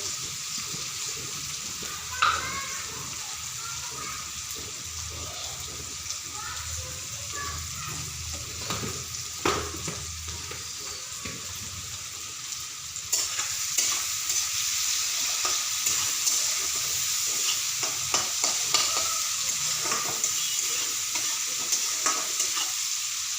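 Onion and tomato with salt frying in a kadai, a close, steady sizzle broken by repeated scraping and stirring clatter that grows busier and louder partway through.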